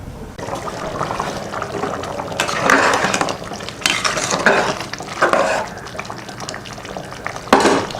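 Water for egg biryani bubbles at a boil in a pot, a close, continuous bubbling and gurgling with several louder splashy swells as the liquid is stirred or moved.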